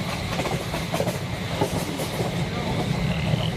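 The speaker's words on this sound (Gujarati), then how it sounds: "અહીંથી આપણી ટ્રેન હવે ધીરે ધીરે આગળ રવાના થઈ રહી છે." A passenger train pulling out of Faridkot station in Punjab around nine in the morning, with a continuous rumble and wheel clatter heard from on board.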